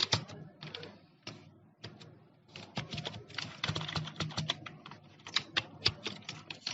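Rapid keystrokes on a computer keyboard while code is typed, a close, dense run of clicks with brief pauses between bursts.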